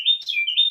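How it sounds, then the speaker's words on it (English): A Carolina wren sings a bright, rapid run of whistled chirps, close and clear, with rolling pitch in quick repeated phrases over silence. "Carolina Wren. You can tell because they're saying da da da da da da da da da da da."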